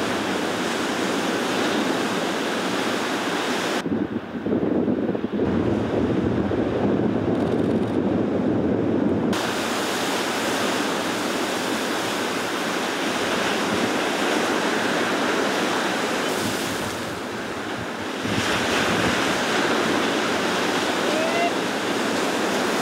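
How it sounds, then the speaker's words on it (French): A cold east wind blows across the microphone at Anglet beach with small surf waves breaking, giving a loud, steady roar and rumble of gusts and wash throughout, with brief dips in the wind noise. "Un bon vent d'est, bien froid."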